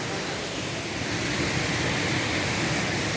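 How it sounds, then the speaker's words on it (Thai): Roaring waterfall at the first tier of Erawan Falls in Thailand, a constant, dense wash of falling water heard close and loud with no breaks. "อันนี้โหเสียงน้ำตก สดชื่นมากครับ"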